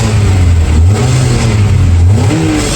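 Toyota MR2 sports car engine, which redlines at 7,000 RPM, running loud and close with steady revving that rises and falls across the whole stretch, no speech over it.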